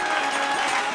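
Audience applause greeting a contestant in a Punjabi wedding-song singing competition on a TV show, a brief dense burst of clapping.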